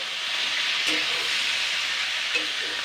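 Vegetables frying in a pan with salt ahead of pumpkin, giving a steady broad sizzle throughout, with two faint stirring scrapes near the start and end.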